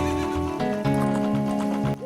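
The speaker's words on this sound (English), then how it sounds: "you can be a Chad and go call your horse." Epona the horse from Ocarina of Time gives a loud, close, wavering whinny with hoof clops underneath, one continuous neigh lasting about two seconds.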